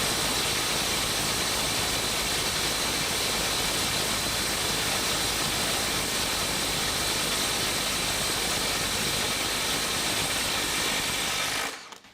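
A Milwaukee M12 FUEL Stubby impact wrench runs flat out at a 500 foot-pound test, giving a dense, steady buzzing hammer that carries on unbroken for about twelve seconds and then cuts off abruptly.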